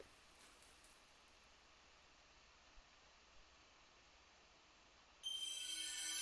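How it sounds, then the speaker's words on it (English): Steady rain falls in the video game Ender Lilies, a soft, even hiss that holds through the scene before a brighter, louder burst of noise cuts in near the end. "The rain never let up."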